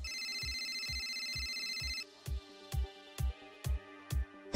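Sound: cell phone ringing

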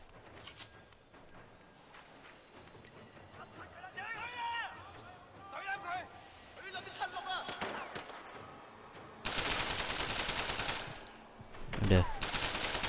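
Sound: gunfire in the video game Sleeping Dogs

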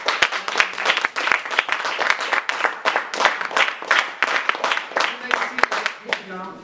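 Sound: congregation clapping

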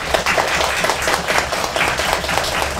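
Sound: audience clapping hands in a show of hands vote

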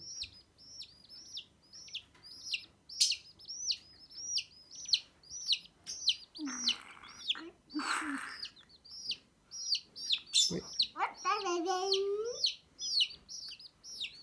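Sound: baby chicks chirping

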